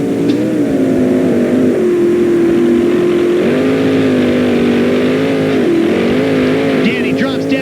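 On-board a sprint car at the start of the Channel Lock A-scramble at the 1999 Knoxville Nationals, the engine screams loud and close with wavering pitch as the field launches, with commentary heard over it.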